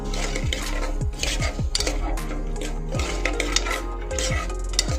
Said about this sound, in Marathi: आणि हे चांगलं मिक्स करून घ्यायचं